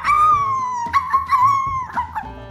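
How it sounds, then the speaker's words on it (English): An animated dog whines and yelps in a cartoon riddle scene, a few high, drawn-out cries over background music, loud and close with no talking. "fortunately, her dog Goldie came to help her"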